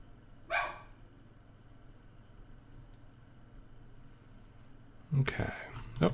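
A dog barks nearby during an Everquest 2 play session, two short sharp barks, one near the start and another near the end, over a low hum of background noise, with a bit of quiet speech.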